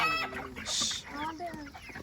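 Chickens cluck in short bursts at a chick seller's vehicle in a rural Punjabi village, fairly close and loud over a brief stretch with some background noise.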